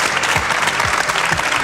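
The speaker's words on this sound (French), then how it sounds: "bravo, on t'applaudit" TV studio audience applauding a prize announcement on a French game show, a steady dense wash of clapping throughout, loud and close, with no talk over it.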